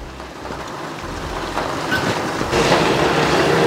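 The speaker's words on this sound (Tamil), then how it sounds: "வெளியில் நல்ல மழை பெய்யுது." Heavy rain falls outside during home cooking, a steady, dense wash of hiss that builds slightly louder over the few seconds, with no talk.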